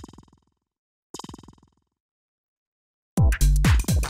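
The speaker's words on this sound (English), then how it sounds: "The next thing that we have here is this little effect sound," Short synthesized effect from a funky minimal house track: two brief buzzy, gritty bursts separated by silence, followed by a louder, choppy stuttering sound at the end.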